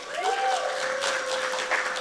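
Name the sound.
round of applause for startup showcase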